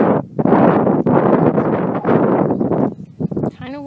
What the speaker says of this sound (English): Kind of windy today, so it may make the bees a little nervous.